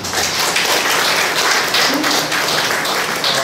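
Applause from an audience at a traditional Korean music and arts gathering, a steady wash of many hands clapping close and loud throughout, with no talk over it.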